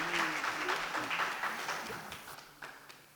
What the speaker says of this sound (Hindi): उनका भी एक बार तालियों से अभिनंदन हो जाए